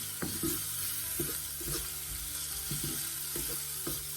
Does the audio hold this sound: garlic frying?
yes